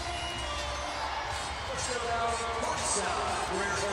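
WNBA arena crowd at an Indiana Fever vs Los Angeles Sparks game roaring after a rebound, a dense sustained cheer with whoops rising toward the end.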